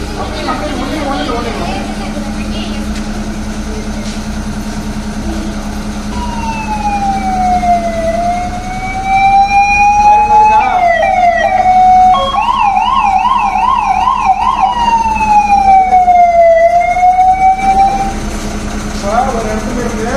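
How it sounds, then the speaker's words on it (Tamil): Wailing emergency siren like a fire engine or 108 ambulance, rising and falling in long sweeps and then switching to a faster yelp, loud and close over a steady low drone, with people talking faintly in the background. "எப்படி சைரன் போட்டு போகுது இல்லையா? அதே சைரன் மட்டும் போடுங்க."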